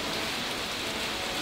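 Heavy rain pours steadily in a dense, even hiss with no breaks. It sounds close and moderately loud, with no voices over it.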